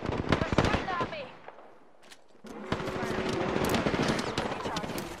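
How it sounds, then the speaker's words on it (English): Enemy gunfire in Apex Legends, rapid bursts of close, loud shots crackling in quick succession, pausing briefly before the firing resumes, with a voice speaking over it. "They're shooting at me!"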